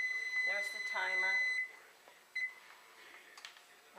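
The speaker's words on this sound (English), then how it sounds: "There's the timer." A kitchen timer beeps several times in a row while grape jelly is being made, a thin high tone heard clearly under a speaking voice, with faint background voices.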